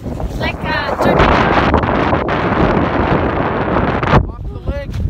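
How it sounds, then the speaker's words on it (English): Strong wind buffets the microphone beside a frozen lake in snowy country, a loud, roaring rush that fills most of the stretch, with voices talking briefly at the start and end. "Very windy!"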